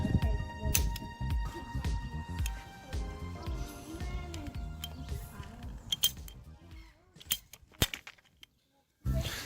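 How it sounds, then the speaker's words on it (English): Several sharp plastic cracks and clicks from a squeeze pipe cutter cutting through plastic pipe, with rustling handling noise in between and a final crisp snap. "You wrap it around the pipe where you want it to be, and then you just squeeze."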